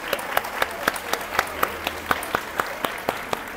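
An audience at a seminar on Laudato Si' and COP 30 claps briefly, with sharp, distinct claps sounding in a steady, sparse rhythm, as though a few people are applauding in a room.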